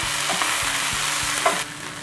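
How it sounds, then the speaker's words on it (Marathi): Cluster beans sizzle in a little oil in a pan, a close, continuous hiss with soft stirring scrapes and clicks across the short span, no voices. "आता आपण याच्यामध्ये तेल घालूया थोडंसं, अगदी थोडं तेल घालायचं आहे।"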